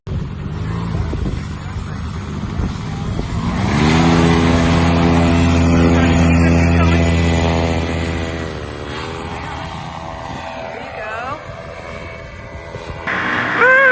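A powered paraglider's paramotor engine holds full throttle during a running takeoff, a steady loud droning hum with strong harmonics that swells mid-clip and then eases off as it climbs away, with light wind noise toward the end.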